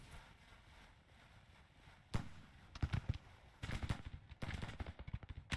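Troops exchanging gunfire in battle in the strategy game Grand Tactician, scattered sharp musket volleys and cracking shots growing denser after a quiet start, with a low battlefield rumble underneath.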